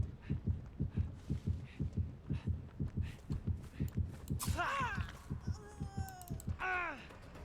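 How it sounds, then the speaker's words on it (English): A steady, thumping heartbeat from the killer's terror radius in Dead by Daylight pulses in a close, regular low rhythm, with high game sound effects and screams cutting in near the end. "we heard the heartbeat behind us"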